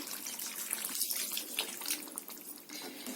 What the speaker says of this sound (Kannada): ನಾನಿಲ್ಲಿ ಮುದ್ದೆ ಮತ್ತೆ ಅನ್ನಕ್ಕೆ ಮಾಡ್ಕೊಳ್ತಾ ಇರೋದ್ರಿಂದ ಸ್ವಲ್ಪ ನೀರು ಹಾಕೊಳ್ತೀನಿ.